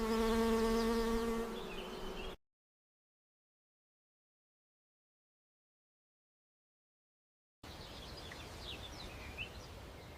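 Steady bee buzzing around apple blossoms in an orchard, close and fairly loud, then a long silent gap before a fainter buzzing hum with outdoor ambience returns.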